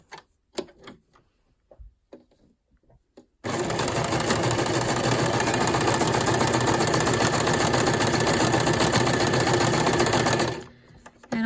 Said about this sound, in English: I'm just going to sew random strips down the page.